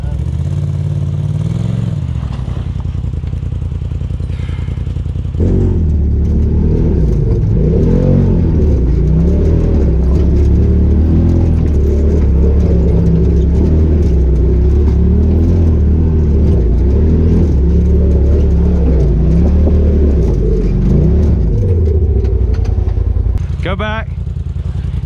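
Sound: off-road vehicle revving its engine climbing Cadillac Hill trail

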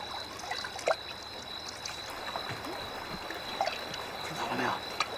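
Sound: water trickling out of a crack in the ground

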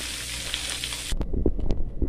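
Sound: chicken frying in a pan

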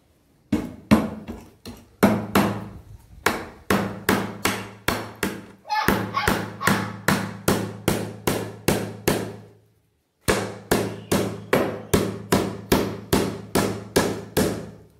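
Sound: hammering a nail

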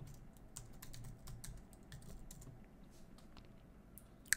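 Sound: typing a password on a computer keyboard

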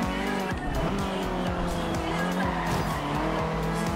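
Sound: car tires skidding after losing traction, Forza Horizon 2 video game

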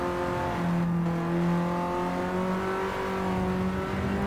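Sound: Honda Civic with aircraft engine lapping Tsukuba circuit

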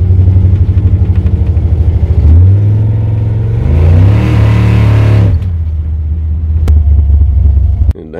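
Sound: Chevrolet C10 truck engine revving for a burnout

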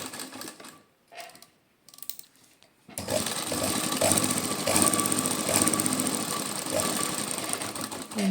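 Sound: sewing machine stitching a pocket onto pants

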